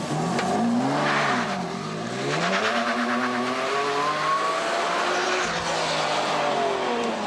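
A Ferrari Enzo drives off on a film set, its engine revving loudly and steadily with tire squeal and skidding over about seven seconds, with no talk.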